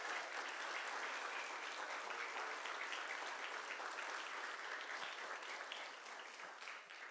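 Sustained applause from an audience at a council meeting, honoring a high school cheer team, a steady dense clatter of clapping hands lasting throughout and tapering slightly at the end, with no talk over it.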